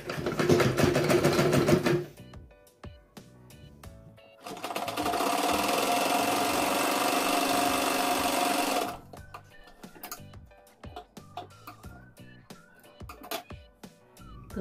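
A sewing machine stitches the side seams of a blouse with a steady mechanical whir in two long runs, broken by quieter handling clicks and clatter in between.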